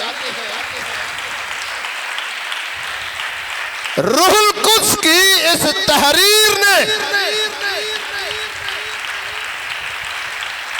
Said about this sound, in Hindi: जोरदार तालियां इस फतेहमंद कलाम के लिए